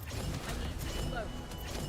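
Weapon reloading in the shooter game The First Descendant, heard as a short run of mechanical clicks and ratcheting clacks over steady game noise, fairly quiet and close.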